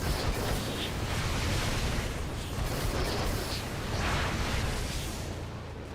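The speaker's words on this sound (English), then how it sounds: "What if I took the missile fire sound, deleted it from there, added a little explosion," Halo 3 multiplayer mod sound of a Sabre craft's exhaust, the missile fire replaced with an added explosion, heard as a continuous loud roaring rumble that swells and fades slightly.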